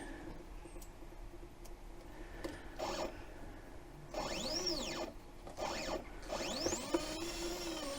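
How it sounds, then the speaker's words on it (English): Stepper motors on a Sainsmart 4040 Pro CNC router with an 800 W air-cooled spindle whine as the gantry moves, rising and falling in pitch over several short runs amid faint workshop ticking, with no talk. "Now I'll just move the machine out of the way so you can"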